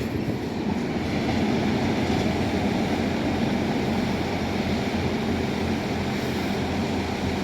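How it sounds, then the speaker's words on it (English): A two-tone Class 47 diesel locomotive from Crewe Diesel Depot rumbles past in Devon, a steady, loud, close roar of engine and rolling wheels that holds throughout. "Which diesel is this? 2-tone Class 47 Crewe Diesel Depot."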